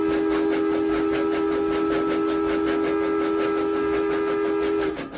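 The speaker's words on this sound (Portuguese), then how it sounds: "E apitou, vindo em sentido inverso, um outro trem iluminado." An illuminated train coming from the opposite direction sounds a steady, sustained whistle over the rhythmic clatter and rumble of rolling wheels. The whistle holds loud and unbroken for about five seconds before fading at the end.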